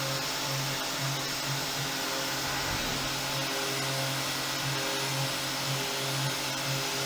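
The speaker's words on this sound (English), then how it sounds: "So this is a corner radius stub length 1/8 cutter with Alton coating. And you can actually feed it pretty quick" A corner radius stub-length 1/8 cutter with AlTiN coating mills steadily at a fast feed, giving a constant, fairly quiet whirring, hissing machine drone with a faint pulsing hum underneath.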